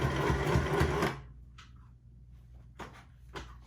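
A sewing machine runs fast and close while stitching an IKEA couch cover, buzzing for about a second before stopping, then a few faint clicks and handling knocks follow.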